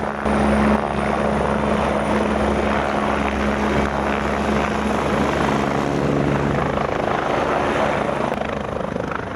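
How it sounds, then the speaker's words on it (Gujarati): A helicopter taking off beside a helipad at Kedarnath roars close by, its rotor thumping and engine whining steadily and loudly without a break. "હેલિપેડની બાજુમાં એક એક બે બે મિનિટે હેલિકોપ્ટર આવે છે અને અહીંયાથી ઉડે છે"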